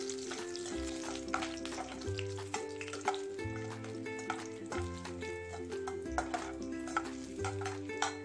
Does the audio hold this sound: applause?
no